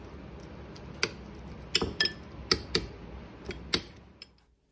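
A spoon stirs a super seed breakfast in a bowl, giving a series of sharp clinks and taps against the dish, irregular and spaced over several seconds, fairly close and alone.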